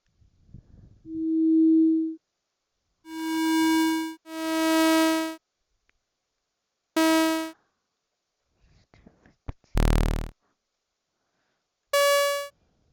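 A series of synthetic electronic tones from the RPG In A Box sound effects generator: a steady sine beep, then several buzzy harmonic blips of varying length and pitch, separated by silence, ending with a short burst.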